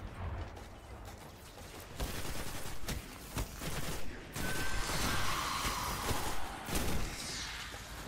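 Repeated bursts of gunfire in the sci-fi shooter game Destiny, a dense stream of sharp shots and thuds at moderate loudness with no talk over it.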